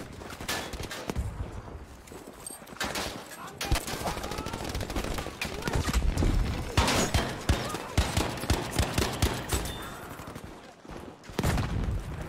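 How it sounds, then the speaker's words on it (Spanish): Rapid bursts of automatic gunfire from Battlefield V, with an STG 44 assault rifle in the fight, crackle loudly and almost without pause, mixed with scattered shots and some voices. "Están disparando a alguien, coño."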